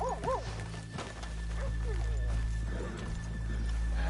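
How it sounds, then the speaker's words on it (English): Horses neigh near the start, then hooves clop on a town street off the main road, with a steady outdoor hum beneath and voices mixed in. "let's leave the horses here off the main drag"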